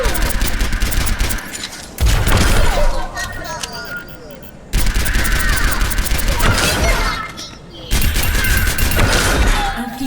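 Gunfire aimed at a training robot in the video game Overwatch, bursts of rapid automatic shots in three long volleys separated by brief lulls and mechanical clicks, with a voice speaking in between.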